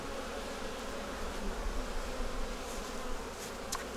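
A dense, steady drone of honeybees swarming over an open hive that recently held a queen cell, close and continuous for the whole stretch, with a few brief higher buzzes of single bees passing near and no voices.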